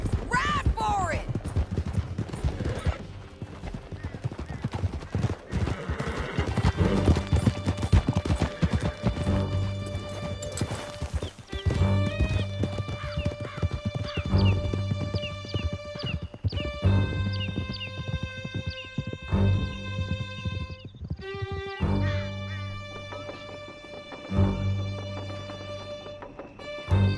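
Horses galloping across a canyon in Red Dead Redemption 2, with rapid hoofbeats running throughout a long stretch, set among game music and engine sounds.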